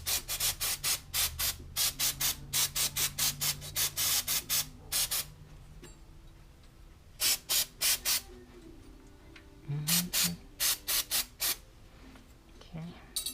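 Short bursts of aerosol spray hiss in quick repeated pulses onto 2014 Honda Accord brake rotor and pad parts, pausing and resuming in several close, loud clusters in a quiet garage.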